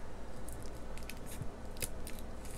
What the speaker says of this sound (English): Let me just go ahead and cut this open.